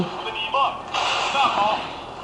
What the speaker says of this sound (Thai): ระเบิดที่ยิง